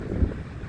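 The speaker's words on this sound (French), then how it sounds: "Il y a quand même un fort vent quand même à 70" Strong outdoor wind gusting at around 70, a steady broadband rumble buffeting the microphone for under a second with no other sounds.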